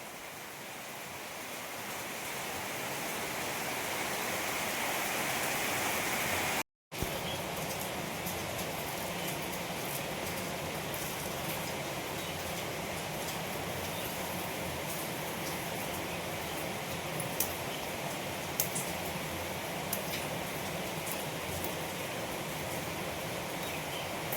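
Steady rain falls over a backyard garden where a wind-broken tree stands, a dense, unbroken hiss of drops that holds evenly throughout with no voices.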